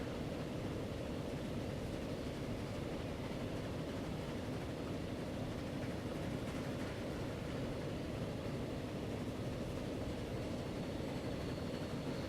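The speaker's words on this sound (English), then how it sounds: "Celebrating the first train ever arriving into Sheffield." Steady low rumble of a train climbing a steep incline into Sheffield station in the Transport Fever game, a constant broadband rolling drone with no pauses and no voices.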